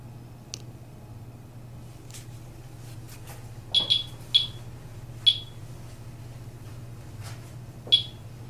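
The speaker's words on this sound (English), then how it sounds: "Now there's always natural radiation in the air, so a couple beeps a minute is pretty usual." A radiation detector gives several sharp, isolated beeps at irregular intervals, moderately near, over a steady low hum in a quiet room of a tavern.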